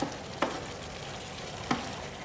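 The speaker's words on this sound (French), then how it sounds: "Toujours bien remuer les pâtes qui finissent de cuire et puis ils vont absorber tout le jus" Linguine finishing cooking in a salmon sauce, a soft steady simmering sizzle with two brief scraping stirs of the pasta in the pan, close and fairly quiet.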